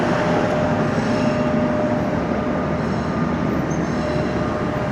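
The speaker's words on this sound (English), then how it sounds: "There goes another pathetically slow TTC train." A Toronto TTC subway train rumbles past close by at Davisville Station with a loud, steady roar of wheels on rails and no break in the noise.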